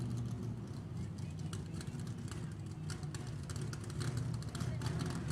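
A nostalgia drag racing car engine running on about 92% nitromethane, a deep, rough, uneven rumble broken by sharp irregular pops and bangs, heard at moderate distance under people talking.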